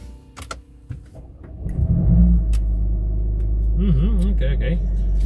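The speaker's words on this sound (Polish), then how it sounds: "Odpalamy jednostkę" A Mercedes-AMG CLA 45 S engine cranks and catches, swelling into a loud, steady idle rumble close by, with a brief rev-like wobble near the end.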